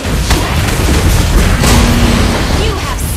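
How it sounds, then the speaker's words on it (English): A turret is destroyed in the video game Mobile Legends with a loud, booming blast and crumbling rumble that fills the short clip, while an announcer voice and game effects sound over it. "You destroyed a turret!"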